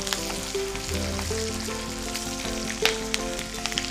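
Dried red chillies and curry leaves crackle and sizzle in hot tempering oil for pulihora, a continuous close frying hiss with sharp pops, over a faint steady hum.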